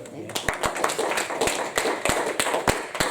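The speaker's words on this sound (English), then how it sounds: "Clap your hands and celebrate him." A church congregation claps in an irregular rhythm, with many sharp hand claps mixed with voices talking and calling out loudly over them.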